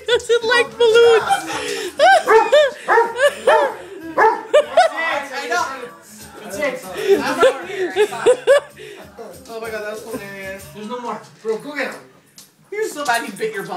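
A Doberman barks and yips repeatedly and agitatedly at balloons, loud and close, while people talk and laugh over and between the barks.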